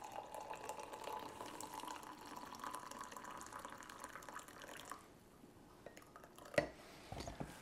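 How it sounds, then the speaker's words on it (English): Coffee from a Bodum French press is poured into a cup, a quiet, steady liquid trickle that stops partway, followed by a soft clink and a few small handling sounds. "So I'm going to pour me a cup here and get it fixed up."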